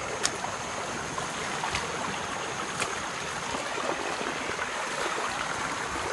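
A river rushes through overgrown terrain in a steady, broad hiss of flowing water, constant and fairly close, with no voices.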